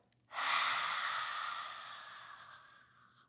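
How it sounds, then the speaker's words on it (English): A single long, audible exhale during a seated chair yoga twist, starting sharply and slowly fading over about three seconds, close and fairly quiet. "Big deep breath in. And exhale."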